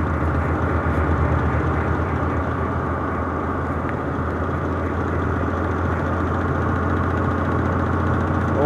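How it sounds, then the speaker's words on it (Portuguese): Heavy semi-truck being overtaken on a Brazilian highway, a steady loud low engine drone and road rumble holding without break throughout. "Carreta pesada aí, ó. Aí, ó, fazer ultrapassagem com segurança."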